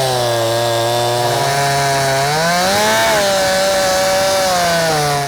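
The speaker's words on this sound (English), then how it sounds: "I'm gonna take my chainsaw and cut this as low down to the ground as possible" A chainsaw runs close and loud while cutting a tree stump low to the ground, its engine whine holding steady, then dipping and rising in pitch as the chain bites into the wood.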